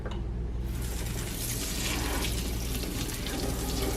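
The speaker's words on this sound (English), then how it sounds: "And then I'm going to show you guys how I rinse it." A bathroom tap runs steadily as makeup brushes are rinsed under it, with a continuous close hiss of flowing water and faint handling underneath.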